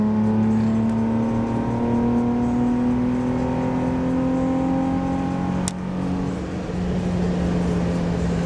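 An Infiniti G35 at about 80 gets a sharp engine blip toward 4,500 rpm to rev-match a downshift into fourth, the tone rising steadily over a continuous drone before a brief dip and settling back to cruising hum.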